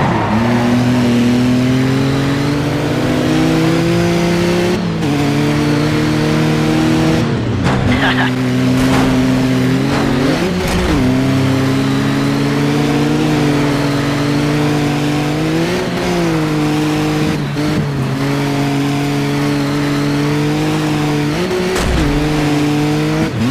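Rally car engine in DiRT 2 on a PS3, All-Star Class event at Croatia Novigrad, revving hard and steadily through gear changes with brief skids and tire squeals, loud and continuous, with speech over the top.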